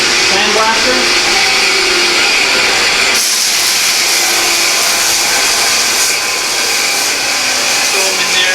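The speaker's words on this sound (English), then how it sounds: "they'll come out, go to the sandblaster." Sandblaster running in an engineering shop with a loud, steady, hissing roar that fills the whole space, continuous and close, with a brief shift in tone partway through.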